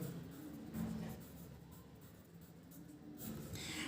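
Pen or marker scratching steadily in a soft, continuous writing sound while numbers are noted down during a maths lesson, heard close up with no talking.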